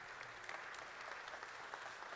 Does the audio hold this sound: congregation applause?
yes